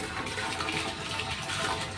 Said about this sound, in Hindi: टंकी भरने लग रही है